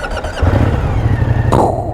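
A Moto Guzzi Stelvio motorcycle engine cranks and catches close up, loud low throbbing settling into a rumbling idle with a brief rise in revs near the end.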